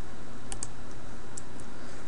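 A router password is typed on a computer keyboard, a few sparse, light key clicks over a steady background hiss.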